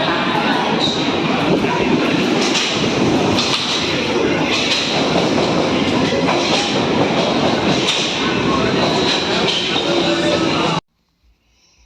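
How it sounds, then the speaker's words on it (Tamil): A train coming out of a tunnel rumbles past close by, a loud, steady roar of wheels and engine that holds for about eleven seconds, then cuts off abruptly into near silence. "பாருங்க குகைக்குள்ளால தான் வருது ட்ரெயின். பாருங்க என்ன ஃபாஸ்ட்டாக வருது."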